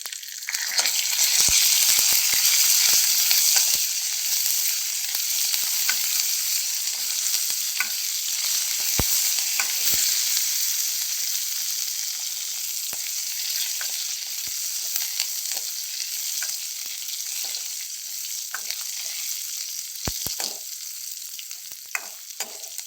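Garlic slices, curry leaves and dried red chillies sizzle steadily in hot oil as a tempering for Andhra-style moong dal rasam. The frying stays loud and continuous, with occasional stirring clinks, and no one speaks.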